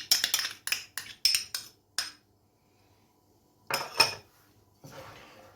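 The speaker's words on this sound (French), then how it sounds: "Et là, on mélange le tout." A spoon works softened butter into baba au rhum dough in a bowl, making a quick run of sharp knocks and clinks. A short silence follows, then a few more scraping knocks.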